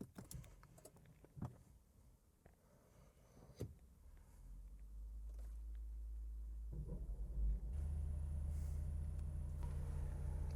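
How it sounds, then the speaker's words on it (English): An Infiniti Q50 engine cranks and catches midway and then settles into a steady low idle rumble, after a few faint clicks and taps inside the cabin. "I'm gonna start the vehicle, make sure it's working"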